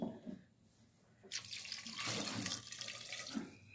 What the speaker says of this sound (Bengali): দিয়ে দেবো এবার জল